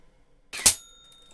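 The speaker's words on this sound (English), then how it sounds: "But I've got to hit the bell first with a blowpipe." A blowpipe dart strikes a metal bell beside the water, giving one sharp metallic clang with a short ringing tail that fades quickly, heard alone.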